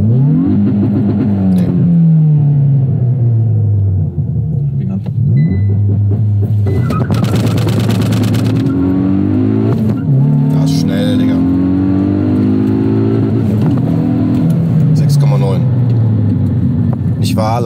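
Hyundai i20 N hatchback engine revving hard, loud and close, its pitch sweeping up through repeated pulls and falling back between them, ending at the rev limiter.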